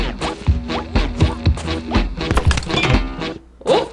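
Blocks bursting apart in the video game Battleblock Theater, a run of sharp thunks and cracks with crumbling debris, about eight hits in quick succession, then a short pause before one last burst.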